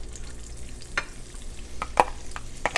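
Butter melting in reserved bacon fat in a pan makes a low, quiet sizzle, broken by a few sharp scraping clicks and stirring knocks close by.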